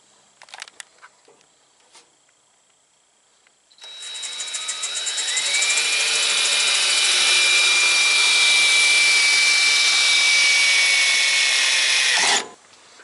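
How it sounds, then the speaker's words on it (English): A power drill bores holes for a radiator mount: a few clicks and taps, then the motor spins up to a loud, steady high whine for about eight seconds before stopping abruptly, close and continuous. "We're going to get to drilling and cutting and get this thing fit in there."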